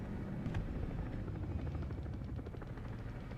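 A helicopter in the combat game War Thunder hovers at a distance, its rotor thrumming steadily at a fairly low level with a faint rhythmic chop throughout.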